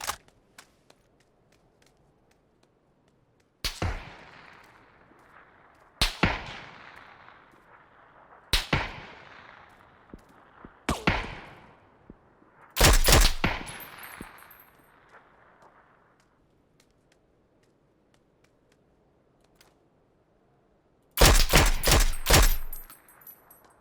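Gunfire from the video game PUBG: several sharp, loud shots spaced a few seconds apart, each with a long decaying echo, ending in a rapid automatic burst.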